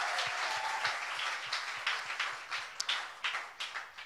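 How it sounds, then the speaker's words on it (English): Church congregation clapping during a live-streamed service, a moderate, steady patter of many hands with a few sharper claps standing out, continuing for several seconds. "Let's clap for our God."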